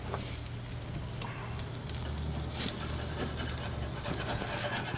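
Pork chops sizzle steadily on a grill, a continuous loud frying hiss with faint scraping as the meat is flipped.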